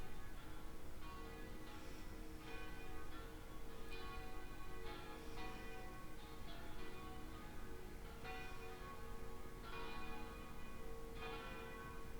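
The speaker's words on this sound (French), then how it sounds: "J'adore le son des cloches de l'église." Church bells ring out in a repeating pattern of tolls, their tones lingering and overlapping at a moderate distance, with no talking.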